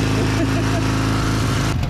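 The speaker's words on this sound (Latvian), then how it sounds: "Tu piedarbināji moci." A small motorcycle engine runs with a steady, buzzing drone, loud and close, at a street race event in Grobiņa, Latvia, while people talk over it.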